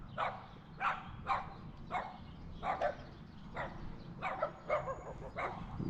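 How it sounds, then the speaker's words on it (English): A dog barks repeatedly near a bike ride after rain, about a dozen short sharp barks in an irregular rhythm over a low steady background rumble. "Sorry about the dog."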